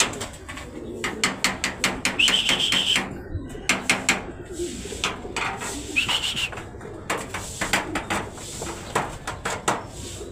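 Racing pigeons at a derby loft in Santiago, Isabela give repeated soft coos and calls, with brief wing flutters and light knocks, fairly close, over a steady outdoor background.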